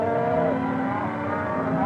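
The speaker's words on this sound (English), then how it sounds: "The cattle are first rounded up." Cattle being rounded up low in a steady, continuous mooing over a constant rumbling background, several animals calling in succession at moderate distance.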